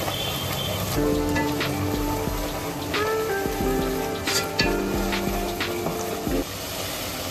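Ground spices for mutton kadai fry in a pan with a continuous, fairly loud sizzle and crackle. Occasional clinks of a utensil against the pan can be heard, and nobody speaks.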